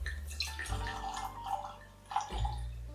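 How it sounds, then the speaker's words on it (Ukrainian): Uzhhorod cognac from Tysa is poured into a glass, a short liquid trickle and gurgle with a brief pause and then a second splash of pouring, close and quiet. "Час налить трохи Ужгорода."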